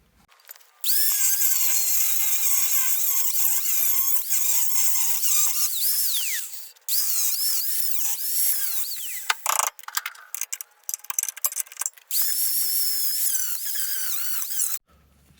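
A power tool cutting metal for radiator clearance in a car engine bay fitted with twin turbo B18 engines, a sustained high-pitched whine that runs in long passes broken by brief pauses, loud and close.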